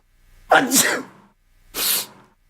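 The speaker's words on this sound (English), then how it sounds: "I'm about to sneeze" A person sneezes loudly and close by: one sharp, explosive sneeze, then a second shorter burst a moment later, with quiet between them.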